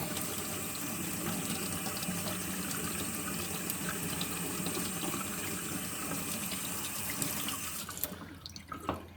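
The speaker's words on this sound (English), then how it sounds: "now we'll rinse off the stone a little bit" A honing stone rinsed under a running tap, with a steady close splash and rush of water for most of the clip, then the flow cuts off near the end, leaving a few drips and small knocks.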